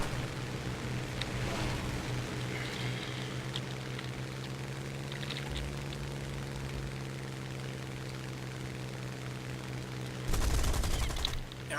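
A Ki-43 fighter plane in the War Thunder video game drones steadily, then bursts of cannon and machine-gun fire break out, the final burst loud and rapid near the end.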